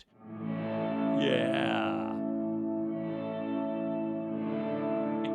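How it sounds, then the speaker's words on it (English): A Silvertone Paul Stanley Sovereign Pro electric guitar rings out a sustained chord with reverb fully up and all other effects off, swelling into a dense, washed-out shimmering tail with a bend partway through; a brief spoken word comes at the start. "One setting that I think is cool on this is everything off except reverb, and I've got reverb dimed."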